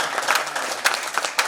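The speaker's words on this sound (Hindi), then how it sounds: "माल्यार्पण के लिए जोरदार तालियों के साथ" A crowd breaks into loud, brisk applause for a garlanding at a Louis Braille birth anniversary ceremony, a dense patter of claps lasting only a moment.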